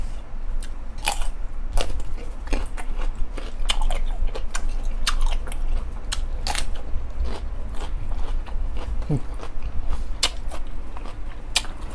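Someone eating raw glass shrimp marinated in fish sauce, loud close crunching and chewing bites repeating rapidly and steadily throughout, with no talking.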